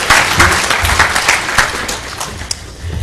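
Conference audience at a DEF CON 11 hacking talk claps loudly in a dense, continuous burst that gradually thins out toward the end.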